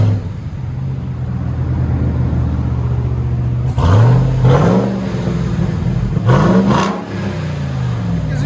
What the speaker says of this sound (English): we got a 21 Ram TRX. This is what it sounds like before.